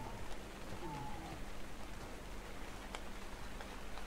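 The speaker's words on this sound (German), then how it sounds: "Jetzt regnet's." Rain in the video game ARK, a steady faint hiss of rainfall with scattered drop ticks, continuous and even throughout.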